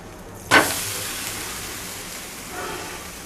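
Adai dosa fries in oil on a hot pan: a sharp burst of sizzling erupts, then eases into a steady, close hiss with a second gentle swell near the end.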